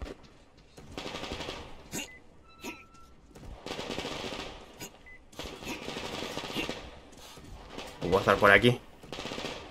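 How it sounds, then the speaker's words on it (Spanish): Gunfire in the video game Metro Exodus comes as bursts of rapid automatic shots spread across the clip, with someone briefly speaking between them. "¿De dónde vienen esos tiros?"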